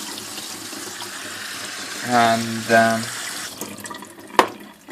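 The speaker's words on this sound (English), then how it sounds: "some cold water to stop the cooking" Cold tap water runs over freshly cooked pasta in a kitchen sink, a steady close stream swelling briefly twice, with a voice speaking over it and a sharp clatter near the end.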